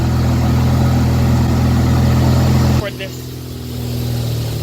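A steady, rumbling Ford Focus ST engine with a modified charge pipe and Tial blow-off valve idles loudly while warming up, then the tone drops abruptly and settles into a quieter, lower hum.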